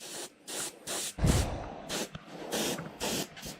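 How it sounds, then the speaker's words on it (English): A touch-up spray gun sprays paint onto a model aircraft in a series of short hissing bursts, about seven close bursts with brief pauses between them. "When we go to the bigger gun, the touch-up gun,"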